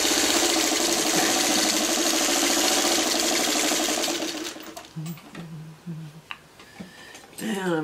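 A sewing machine runs steadily while stitching a quilt block, a loud continuous mechanical whir that stops after about four seconds, followed by brief clicks and handling sounds.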